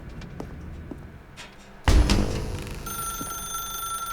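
A telephone ringing in the video game The Stanley Parable, starting abruptly after a quiet stretch with a sharp onset and then a steady bright ringing tone that holds to the end.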